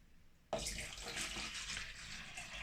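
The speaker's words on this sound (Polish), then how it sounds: "Więc nalewamy znowu wodę dystylowaną." Distilled water suddenly starts pouring into a measuring cup for film developer, a bright steady splashing stream that begins after a short quiet pause and runs on close and clear.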